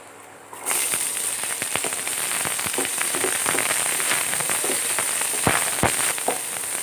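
Onion and green chillies hit hot oil and break into a loud, steady crackling sizzle that starts abruptly and holds with sharp spitting pops throughout.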